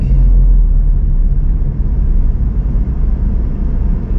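City traffic in Cagayan de Oro during the fiesta, heard from inside a moving car, forms a loud, continuous low rumble of engines and road noise with no voices.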